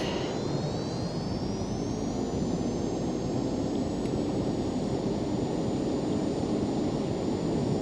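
Twin jet engines of a Cessna Citation C525 in a flight simulator spool up to takeoff thrust, a loud steady roar with a rising turbine whine that levels off and holds, no talk.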